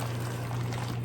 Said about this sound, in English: I'm going to put a little bit of the pasta water in there.